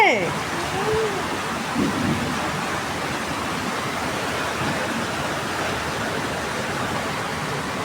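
Heavy monsoon downpour beyond a balcony, a dense, steady roar of rain hissing continuously for several seconds, with brief voices at the start.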